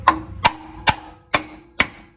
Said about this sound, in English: when I go to take these covers off, I'll tap them with a hammer